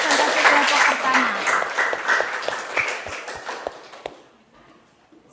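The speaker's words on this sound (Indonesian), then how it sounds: "Berikan tepuk tangan untuk presentasi kelompok pertama." Students in a junior high school classroom clap for the first group's presentation, a brisk close burst of hands with some voices mixed in that dies away to near quiet near the end.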